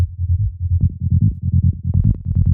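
Rumbly synth bass built from a sine wave with light FM from a second sine, for hardgroove techno: a loud run of short, punchy low notes in a driving, repeating rhythm with occasional brighter accents, playing alone.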